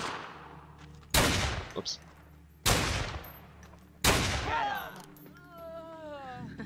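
Three loud, sharp gunshot bursts ring out in the video game Fallen Earth, each one trailing off into echoes, with a voice speaking briefly between the shots.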